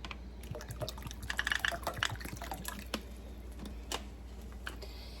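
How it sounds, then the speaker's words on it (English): Water is poured into a pot nearby, a gurgling splashy flow with scattered drips and small splashes, fairly quiet and without speech. "We're going to add 2 cups of water to this."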